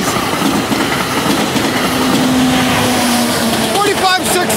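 An NJ Transit Bombardier ALP-45DP locomotive, number 4516, rolls past at Middlesex, New Jersey, making a loud, steady rumble with rail clatter throughout and no horn.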